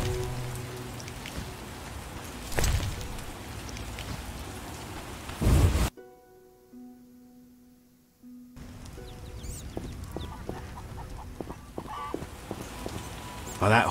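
Steady rain falls in The Witcher video game, a dense hiss of drops on surfaces broken by a few heavy bursts and a brief near-silent gap, with faint game sounds and distant rumbles.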